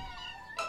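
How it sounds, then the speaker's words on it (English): Cartoon kittens mew in a thin, high, drawn-out cry, with a brighter second meow breaking in near the end, clear and alone. "You be sure to find the kittens a good home, Tubby."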